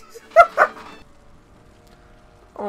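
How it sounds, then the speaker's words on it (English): A cartoon dog in a One Piece anime episode gives two sharp, close yips in quick succession, then a quiet pause before a voice starts at the end. "the voiceover for the dog"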